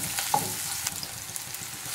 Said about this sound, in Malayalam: ഇപ്പോൾ ഉള്ളി ഫ്രൈ ആയിട്ട് വന്ന് തുടങ്ങിയിട്ടുണ്ട് കേട്ടോ